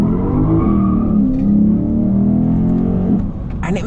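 Lexus IS 500 F Sport Performance drifting through a U-turn, its engine droning loud and steady with rising harmonics, then a brief higher squeal near the end.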